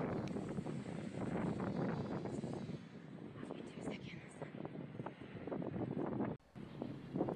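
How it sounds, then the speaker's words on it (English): Strong wind gusting across a commercial building rooftop near an HVAC condensing unit, a steady loud roaring rush with buffeting on the microphone that drops out briefly near the end before returning. "Just listen to that wind."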